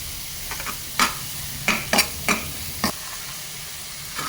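Onion, tomato and ginger sizzle in a pan for moong dal, with a soft steady fry broken by about six sharp, close stirring scrapes.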